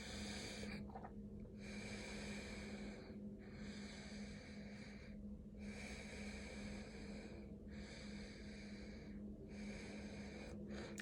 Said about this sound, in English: So this is one type of alternate breathing.